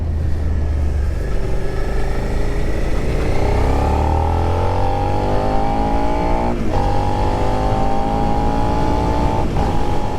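A 2022 Suzuki SV650 LAMS parallel-twin motorcycle accelerating on the road, its engine note climbing steadily through the gears with a brief dip at each shift, loud and continuous over heavy wind rumble.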